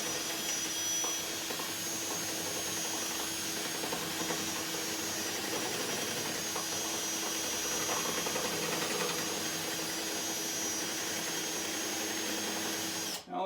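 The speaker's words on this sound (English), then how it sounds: "this Porter cable drill with 2 batteries, 20-volt lithium batteries" Porter Cable 20-volt lithium cordless drill whirring continuously at close range during guitar repair work, a steady motor whine with small fluctuations in load, no one speaking over it.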